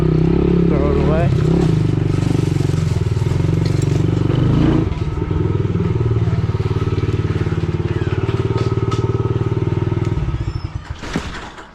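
Yamaha TTR-110 pit bike engine revs hard and close while being ripped around, a raspy buzzing drone with throttle surges and a dip midway, over clattering and scraping, before cutting off at the end.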